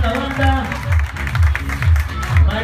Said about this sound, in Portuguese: aplauso para Rita Brizuela